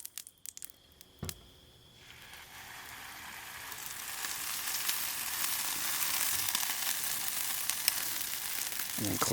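Oil hisses on a hot Weber Q griddle as a pulled pork quesadilla goes down, a few clanks and taps first, then a steady sizzle that swells louder and holds, close and continuous.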